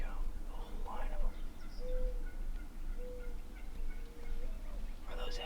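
Wild turkeys gobble in bursts at a distance during a spring turkey hunt, with faint murmured voices nearby.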